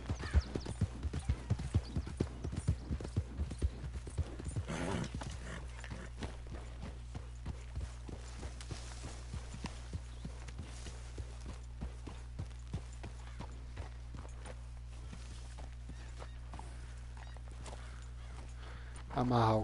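Horse hooves clip-clop steadily in Red Dead Redemption II, loud and rhythmic at first, then quieter and more regular as the walk continues, with a low game drone underneath and a brief burst near the end.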